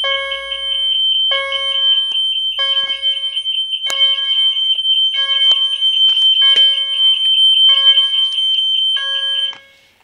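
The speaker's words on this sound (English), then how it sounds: "Such a big alarm in the back" A large fire alarm system sounds alone and close, with a loud repeating electronic tone pattern and regular pulsed beeps that run for about ten seconds before cutting off.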